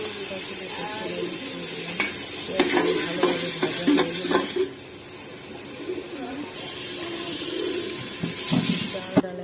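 Khichuri ingredients with chinigura polao rice fry in a pot while being stirred, giving a steady sizzle broken by repeated scraping and stirring strokes, fairly close and moderately loud throughout.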